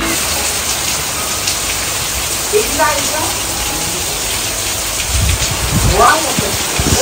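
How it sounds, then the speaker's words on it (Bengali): Rain falls steadily in a constant close hiss, with brief voices and some rustling movement over it. "এখন বৃষ্টি পড়ছে,"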